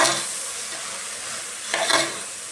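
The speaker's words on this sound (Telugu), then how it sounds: "వేగాలకి అయితే అనప గింజలు ఉల్లిగడ్డ బాగా వేగిపోయింది." Lablab beans and onions fry in a pan with a steady close sizzle, and a brief stirring scrape stands out near the end.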